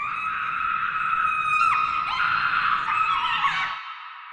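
Songlian, a woman in a film, lets out haunting, echoing screams, a sustained high wail that wavers and breaks several times before cutting off abruptly.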